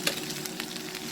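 Frozen hamburger patty frying in a lidded pan: a steady, close sizzle with fine crackling pops throughout.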